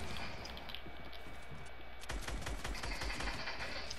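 Video game gunfire, a dense rattle of rapid shots that grows louder and heavier after the midpoint, with clacking keyboard-like taps mixed in and no talking.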